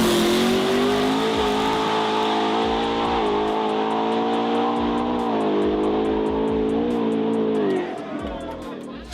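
A 2000 hp FFRE Coyote engine runs on a dyno, a loud sustained roaring drone with pitch shifts as it holds and varies revs, then drops off abruptly near the end.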